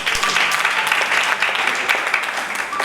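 A congregation applauds at a church seminar, with dense, loud clapping that holds steady throughout.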